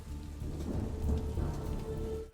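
Rain falling in a Clone Wars episode, a steady wash of rainfall with low rumbling underneath, moderately quiet and continuous.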